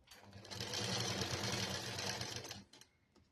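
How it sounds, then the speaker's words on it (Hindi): A sewing machine stitches a canvas belt strip onto sari fabric in one close, steady whirring run of about two and a half seconds, then stops with a few small clicks. "देखिए इस तरह से मैंने ये एक सिलाई पूरी कर दी है और अब ये दूसरी तरफ से भी मैं ये सिलाई कर देती हूँ"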